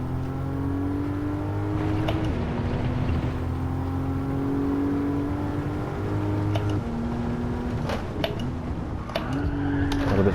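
A race car in Gran Turismo 7 holds a steady engine drone that drops in pitch several times as it brakes and slides, with faint tyre scrub and clicks over the top.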